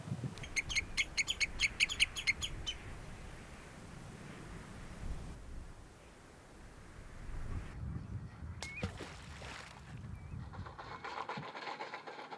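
Faint seabird chirps and calls repeat in the distance over a soft outdoor background on an Icelandic coast during breeding season, with a few scattered tweets later on.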